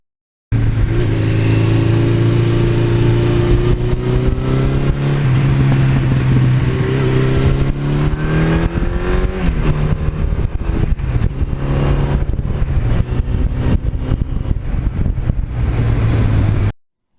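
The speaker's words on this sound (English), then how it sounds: "These bikes have a very different sound, a much nicer exhaust sound" A 1982 Suzuki GS1100E motorcycle engine runs loud and close for the whole stretch, its exhaust holding a steady idle before rising and falling through several revs and settling again, with no talk.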